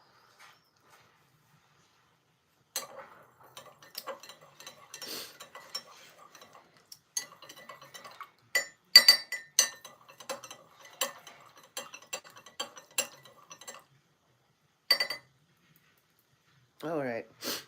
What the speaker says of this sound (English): this is a rather big spoon to stir it with